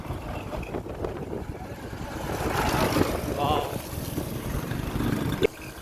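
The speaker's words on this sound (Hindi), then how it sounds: "वे ट्रैक्टर आ रहा है।" A tractor approaching along a village track, its engine rumbling at a distance and slowly growing louder beneath people's voices, ending with a sharp knock.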